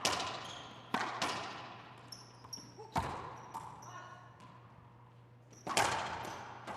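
A racquetball doubles final rally at the Boston Open, with sharp, echoing cracks of the ball striking the court walls at uneven intervals, each ringing briefly in the enclosed court, over a low steady hum.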